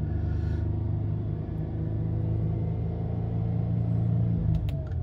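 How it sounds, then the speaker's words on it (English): A Mercedes engine in race throttle mode gives a steady, close, low rumble that holds fairly even with no speech over it. "RPMs go down. I haven't moved my foot on the throttle."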